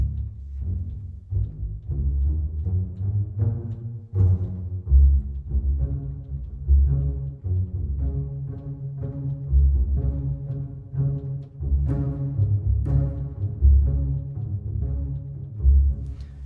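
Plucked pizzicato orchestral strings from composition software samples pick out a steady run of short notes over low bass tones, with no voices.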